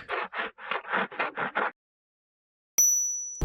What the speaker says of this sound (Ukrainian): пролунав третій дзвоник.